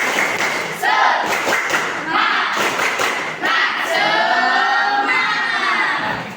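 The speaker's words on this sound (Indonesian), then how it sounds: "Sekali lagi, tepuk semangat!" Students in a classroom repeat the 'tepuk semangat' clapping chant, a loud crowd of young voices shouting in rhythm over sharp, patterned hand claps that fill the room.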